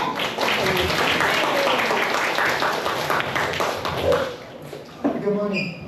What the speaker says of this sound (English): let's give applause to Professor Bueno.